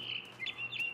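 A mama bird chirps in the video game What Remains of Edith Finch, several short high tweets over a soft ambient bed, fairly close and clear with no talking.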